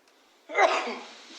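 One short, sharp sneeze bursts out after a moment of quiet, trailing off into a breathy fade.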